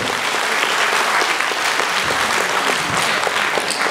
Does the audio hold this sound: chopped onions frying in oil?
no